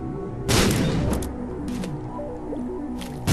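A bomb goes off in The Binding of Isaac: The Wrath of the Lamb, one loud burst that decays over a second, with game music and small effects continuing underneath.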